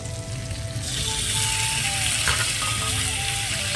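Small pieces of meat sauté in a hot pan, crackling and sizzling steadily up close, with faint scraping from stirring in the middle of the clip.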